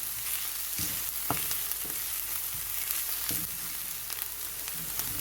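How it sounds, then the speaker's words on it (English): Onions browning in garlic-infused olive oil in a pan, a soft, steady frying hiss with occasional light knocks and stirs, fairly quiet and close, without speech. "I'm going to start by browning off the onions"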